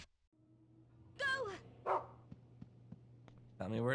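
A dog in the video game Rule of Rose gives a few short, sharp barks and yips, spaced out over a low steady hum, with a voice talking briefly at the start and again at the end.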